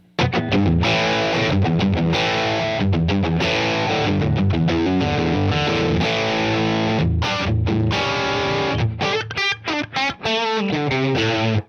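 Electric guitar chords played through a Rev amp pedal in a studio, thick distorted sustained tone with strummed changes, loud and continuous, ending in choppy stabs.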